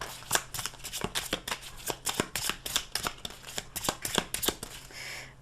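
Tarot cards are riffled and shuffled by hand in a rapid run of crisp flicks and soft snaps, close and steady, with no talking.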